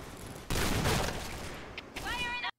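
A burst of gunfire from the online shooter game Point Blank, a loud dense volley lasting about two seconds, followed by a short high electronic sweep at the end. A speaker's voice is present.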